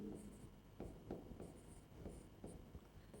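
Pen or pencil writing while working through Python arithmetic operators, soft faint scratchy strokes in short bursts over quiet room noise.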